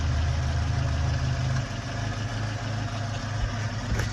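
A 1974 Renault R16 TS engine idles steadily on old petrol after 29 years laid up, a low, even mechanical drone that holds close and constant throughout with no voices.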